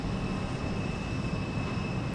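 Steady droning roar of an Antonov AN-12 propeller cargo plane near Houston Intercontinental Airport, constant and fairly loud with a thin tonal whine on top, no talking.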